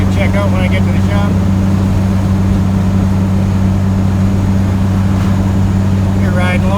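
The turbo and diesel engine of a Cummins-powered GMC truck while riding along, a loud unbroken droning hum heard from inside the cab, with voices talking over it near the start and end.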